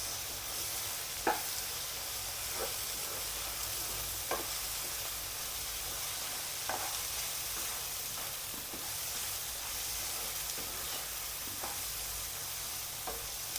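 Prawn thoran frying in a pan, a soft continuous sizzle with regular sharp scrapes of a spoon stirring every second or so, fairly quiet and close, no talking.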